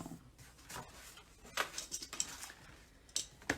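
A craft knife and metal ruler are handled on a work surface, giving sparse clinks and light clatters, a few louder sharp taps among quieter shuffling, close by and without talk.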